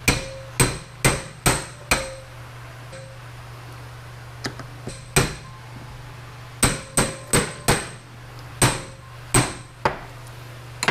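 An impact screwdriver struck by a hammer loosens a bolt on a Subaru engine, a series of sharp metallic blows, some in quick clusters and some spaced apart, over a steady low hum.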